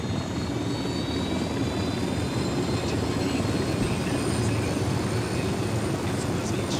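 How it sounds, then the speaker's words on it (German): A helicopter from the video game Ghost Recon Wildlands makes a steady, loud rotor and engine drone that holds unbroken throughout, with no speech over it. "So, da vorne ist ein Hubschrauber."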